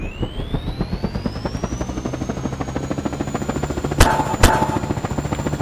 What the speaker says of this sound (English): I'll show you that I can fly this bloody helicopter.